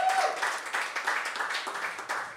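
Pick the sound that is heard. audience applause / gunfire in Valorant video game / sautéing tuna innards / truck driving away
audience applause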